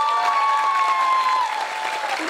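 A crowd at an Islamic religious gathering applauds for young santri students, a continuous round of clapping with a sustained tone running beneath it.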